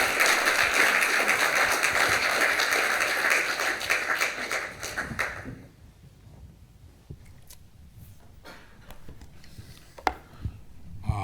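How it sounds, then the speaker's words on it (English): An audience breaks into loud, sustained applause welcoming a guest speaker named Rob at a church gathering, the clapping filling the first five seconds and then fading to scattered claps and quiet room noise. "Give him a round of applause."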